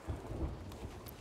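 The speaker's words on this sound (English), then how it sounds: "Oh, it's raining, that's why." Steady rain falls with low rumbling thunder in the Sea of Thieves pirate game, a quiet rough wash with soft low rolls, brief and without talk.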